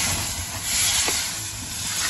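Homemade butter sizzling in a hot pan over a high flame, a steady close hiss with no talking.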